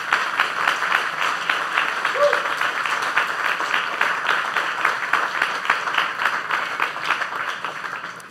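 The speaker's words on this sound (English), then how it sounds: "Can we get another round of applause for Ben?" An audience applauds steadily after a talk on alloy development, dense continuous clapping that holds for several seconds before thinning slightly at the end.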